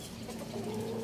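A chicken clucks softly in a low, murmuring run, fairly faint against quiet outdoor background.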